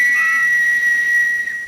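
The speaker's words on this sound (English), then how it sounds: "Now, where's my whistle?" A single steady, shrill whistle blast sounds alone and holds at one pitch for under two seconds.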